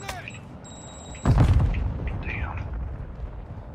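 A thrown grenade goes off in Call of Duty DMZ with a sudden loud boom that rumbles and fades over a couple of seconds, preceded by faint game sounds and a short tone.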